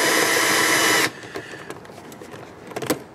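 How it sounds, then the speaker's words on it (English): A tool loosens an 8mm hose clamp on the intake of a Chevrolet S-10 Blazer, giving a loud continuous buzzing whir for about a second, then stopping abruptly and leaving faint clicks and handling noises. "we can remove this 8mm hose clamp, or just loosen it"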